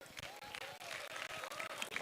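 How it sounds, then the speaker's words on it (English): Audience applause at a university business conclave, a dense wash of clapping hands that rises and dips in quick waves over two seconds, with some crowd voices mixed in. "Just give us a big round of applause."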